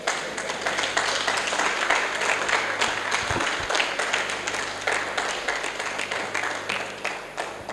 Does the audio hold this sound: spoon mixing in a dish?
no